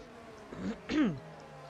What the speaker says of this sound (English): Oh, I have to clear my throat there